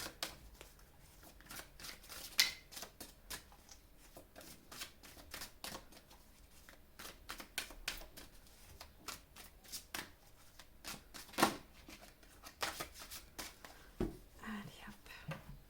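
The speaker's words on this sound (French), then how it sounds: "je vais faire le tirage et après j'agencerai les cartes" Tarot cards being shuffled in repeated soft riffling bursts, close and fairly quiet, with brief sharper snaps between them and no talking.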